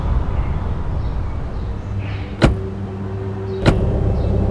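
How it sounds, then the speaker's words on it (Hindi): People get into a car: two sharp car door thuds a little over a second apart over a steady low engine hum, with no talk. "चल गाड़ी में बैठ"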